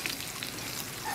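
Chopped red capsicum sizzles lightly in a pan of oil for a Veg Manchurian, a steady close crackle that holds even through the short moment.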